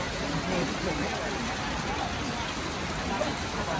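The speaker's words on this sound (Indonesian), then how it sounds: "Oh ya, dari pagi ini tuh hujan deras teman-teman." Heavy rain pours steadily all morning, making a dense, continuous hiss that holds at an even level throughout with no breaks.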